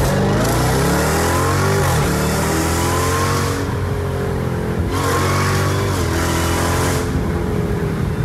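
Jeep Grand Cherokee Trackhawk fitted with a Corsa exhaust accelerating hard, a loud revving engine climbing through several gear shifts with brief dips between pulls, close and dominant with no talking.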